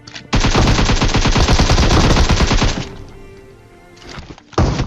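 Gunfire in a battle royale video game on a ranked duo lobby: a loud, dense burst of rapid shots lasting about two and a half seconds, then a fading rumble and one final sharp shot.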